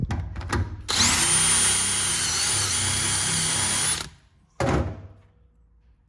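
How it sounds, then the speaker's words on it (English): An electric drill whines loudly and steadily for about three seconds, stops, then gives a second short burst, close by, drilling out a front suspension part on a third-generation Honda CR-V. "So I'm gonna drill out one side right there."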